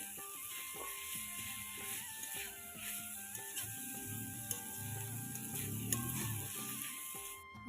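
Bengali fish curry with banana cooking on a low flame gives a soft, steady sizzle and simmer, faint and continuous, with a tonal background sound running alongside it.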